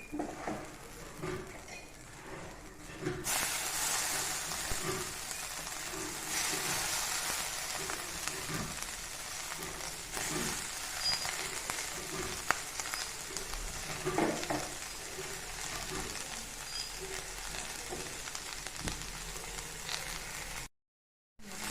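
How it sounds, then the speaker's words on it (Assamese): Small fish frying in hot oil for an Assamese recipe: a steady, bright sizzle starts abruptly and crackles on continuously at close range. "গৰমখিনি হৈ গৈছে, ইয়াত মই মাছখিনি দি দিম।"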